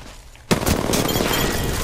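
Apex Legends gunfire: a quiet moment, then an abrupt loud onset of rapid automatic shots that continue as a dense, crackling burst.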